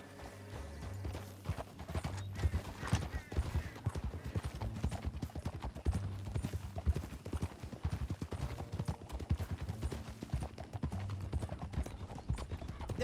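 Horses' hooves clip-clop in a fast, steady rhythm as riders chase through a canyon, dense and continuous from start to finish, with a constant rumbling background underneath.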